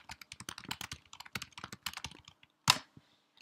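Sample code being typed on a computer keyboard: a rapid run of crisp, close key clicks that stops briefly, then one louder clack, probably a heavier key.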